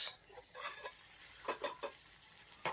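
A spoon scrapes and stirs curry pieces in a frying pan over a soft sizzle, a few distinct close scraping strokes, quiet overall.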